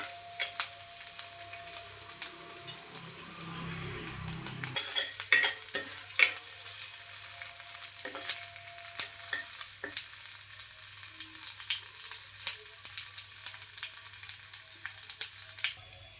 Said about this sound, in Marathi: आणि लसण हा आपण ठेसून घेतलेला आहे तो टाकूया आता या लसणाला थोडंसं आपण लाल होऊ द्या